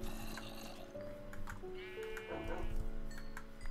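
Sheep bleat in the Minecraft video game, with a few short wavering calls amid game sounds and a watery background.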